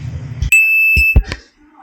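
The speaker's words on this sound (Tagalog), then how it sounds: "Ayan na, nag-beep niya." A Fujidenzo JWA 6000 VT washing machine gives a loud, steady electronic beep of about half a second when its cycle finishes, with bumps and handling noise just before and after it.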